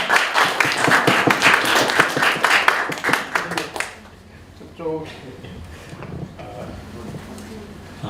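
An audience claps at a youth seminar, a dense burst of applause lasting about four seconds before thinning out. A voice then speaks over quieter room noise.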